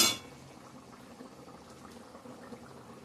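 Chicken curry gravy simmers in a pot, a soft low bubbling that murmurs quietly and continuously after a brief clink at the start.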